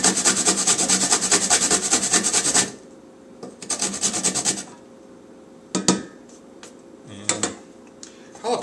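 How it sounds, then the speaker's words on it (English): A frozen jalapeno pepper scraped on a hand grater: a loud, steady rasping rub runs for about two and a half seconds, then a shorter burst of grating, followed by a few scattered knocks and handling noises. "Take your grater and"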